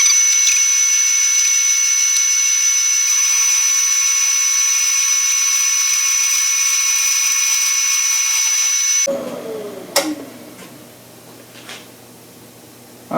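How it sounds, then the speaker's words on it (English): A milling machine cuts a slot down the middle of a mill vise stop, a loud steady high-pitched whine that runs for several seconds before spinning down, followed by a few light clinks. "cut a little slot down the middle between the pieces"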